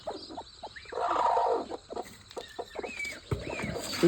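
A country hen clucking in a backyard poultry pen, a string of close clucks and short calls with uneven pauses and a louder stretch near the start.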